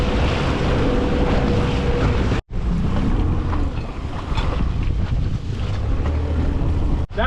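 Escort boat running across the bar beside a sailing vessel, a loud continuous rush of wind buffeting the microphone over engine and water noise, with two brief dropouts.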